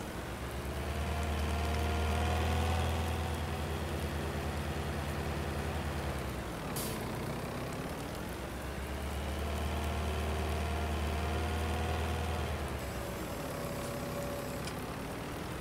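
Tractor engines idle in the Farming Simulator 19 game, a steady low diesel rumble with a droning hum, continuous for about fifteen seconds with a brief dip midway, loud and alone.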